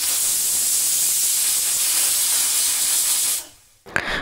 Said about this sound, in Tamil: மூணு விசில் வந்தோடனே ஆஃப் பண்ணிவிட்டு ப்ரெஷர் போனோடனே ஓப்பன் பண்ணிக்கலாம்.